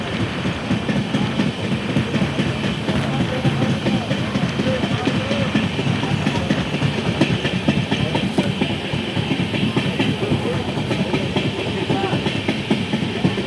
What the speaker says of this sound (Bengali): ভালো স্পিডে কিন্তু ট্রেন এগোচ্ছে গৌড় মালদা।